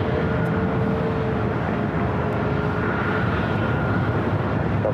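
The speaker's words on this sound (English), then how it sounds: "777 rolling down to 5 right" A Turkish Airlines Boeing 777 heading for Istanbul rolls down runway 5 right at LAX, its engines a steady, dense broadband roar that holds evenly at close range throughout.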